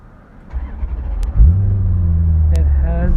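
Maserati GranSport with an aftermarket exhaust and red calipers: a short blip, then a loud, close rev that swells into a deep sustained exhaust drone, with a faint voice briefly under it.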